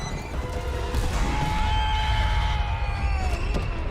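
Horse neighing loudly in a film scene, a long whinny with hoof clip-clop and rumbling commotion underneath, close and continuous.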